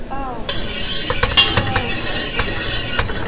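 Onions sizzle in olive oil in a hot pot, a bright crackling hiss under quick metallic stirring and scraping, close and continuous for a few seconds.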